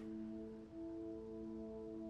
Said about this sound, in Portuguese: Cara, tá chovendo aí, ó.